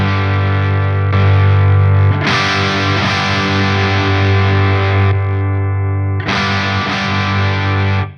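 An electric guitar chord rings through a Friedman IR-X twin-channel high-voltage valve preamp, heavily distorted and sustained. Midway it is struck again with the boost engaged, jumping louder and more saturated, then fades before a final restrike.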